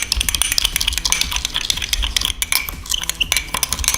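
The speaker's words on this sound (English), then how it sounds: "So use that spoon, mix them around pretty good." A spoon stirring a mixture of salt and sand, producing a steady stream of dense gritty scraping and clicking close up, with no voices.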